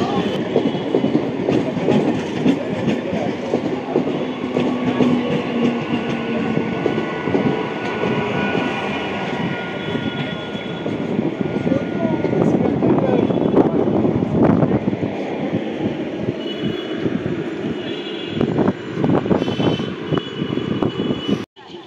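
A through train runs past a platform at Kanchrapara station, a loud, steady rail rumble and clatter lasting about twenty seconds, with faint voices underneath.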